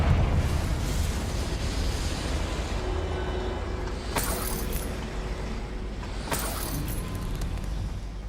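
A Confringo fire-blast spell from Hogwarts Legacy erupts over a steady rumbling game background, with two sharp bursts cracking out in succession, loud and close.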